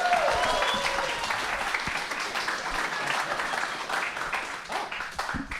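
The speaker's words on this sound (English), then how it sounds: "Give Ollie a big round of applause, everybody." Comedy club audience at a live Edinburgh Fringe stand-up show applauds steadily, a dense wash of many hands clapping that holds strong throughout with some cheering mixed in.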